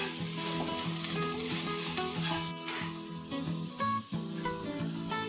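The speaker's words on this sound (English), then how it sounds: "Once that's fried just for a few seconds on the pan" Ground cloves and Madras curry powder frying with onions in a pan for a lentil curry, giving a bright continuous sizzle up close, broken by a few soft stirring scrapes.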